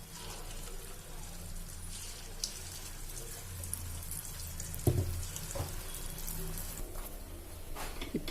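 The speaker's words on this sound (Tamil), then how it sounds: "எண்ணெயில் போட்டு பொரிச்சு எடுத்துக்கலாம்." Small balls of honey candy dough deep-frying in hot oil, a steady soft bubbling sizzle with occasional louder pops and clatters, quiet throughout.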